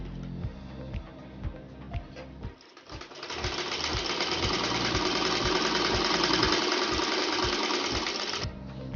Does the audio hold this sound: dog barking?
no